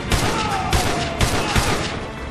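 Sustained gunfire in the Call of Duty video game during a helicopter fight, with dense overlapping shots and repeated sharp bursts forming a loud continuous barrage.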